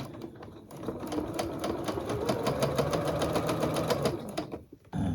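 A sewing machine stitches a quilted poinsettia table runner on a normal straight stitch, whirring in a steady, fast, close mechanical rattle that slows and stops just before the end.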